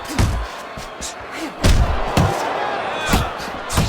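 Punches thud sharply in a Fight Night Champion boxing match between Apollo Creed and Ivan Drago, with several heavy impacts over crowd noise and commentary voices.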